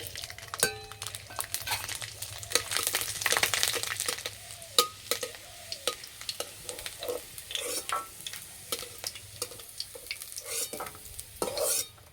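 Garlic frying in hot mustard oil in a wok after dried red chillies, with a steady close sizzle and repeated scraping, clacking stirs of a utensil against the pan.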